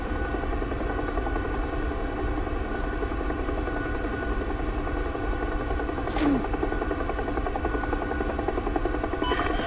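Helicopter rotor and engine in the DCS flight simulator game, a steady loud droning hum with a constant rhythmic beat throughout, plus a brief higher whine partway in.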